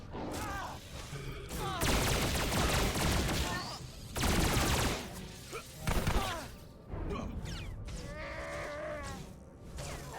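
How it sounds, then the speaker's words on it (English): Blaster rifle fire in Star Wars: The Old Republic, loud bursts of rapid shots in several volleys over about ten seconds, mixed with other game effects and a voice talking. "Sniper rifle. Oh, it's a blaster rifle."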